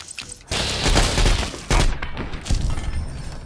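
A minigun fires in the Fallout 3 video game, loud dense bursts of rapid gunfire with sharp impacts, starting abruptly and continuing in close, heavy volleys.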